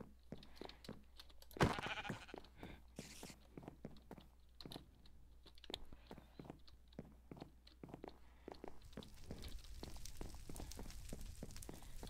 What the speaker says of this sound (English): No, sheep, don't fall off the edge.